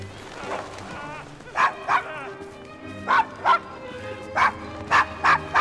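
Dog barking in the video game Assassin's Creed Chronicles, set in 1868 London's Devil's Acre: about eight loud, near barks and yips in uneven pairs, following a stretch of talk and over quiet background music.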